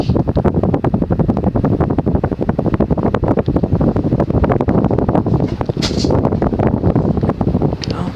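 A c. 1984 Union Regent 52-inch ceiling fan spins on high, giving a steady, loud rushing whoosh of moving air that continues without a break.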